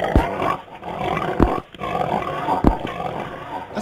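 Pigs in a PC video game make low, rough grunts and snorts that recur at a steady pace over a constant background hum, a few loud bursts spaced about a second apart.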